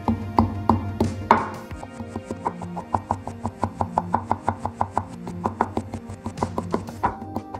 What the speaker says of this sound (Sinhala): මේ ටික මුලින්ම සුදුළුන් ටික පොඩ්ඩක් කොටාගෙන ඉන්නවා